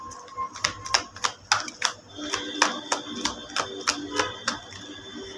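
Tarot cards shuffled by hand, a series of sharp close slaps and riffles in an uneven rhythm, with a faint hum underneath.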